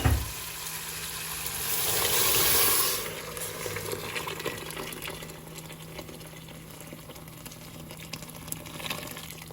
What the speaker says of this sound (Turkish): Bakın salçamız kavurduktan sonra üzerine sıcak su ilave ediyoruz